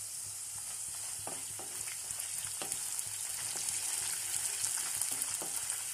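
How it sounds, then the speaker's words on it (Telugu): Dried red chillies frying in hot oil for tempering pulihora, a continuous close hissing sizzle with faint crackles and stirring scrapes, steady throughout with no voices. "ఈ ఎండుమిర్చి కూడా కొంచెం ఫ్రై కావాలి"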